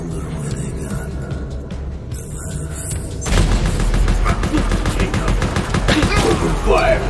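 Video game gunfire from Resident Evil: Operation Raccoon City breaks out in a loud, dense fusillade of rapid automatic shots after a quieter stretch with speech, continuing heavily to the end.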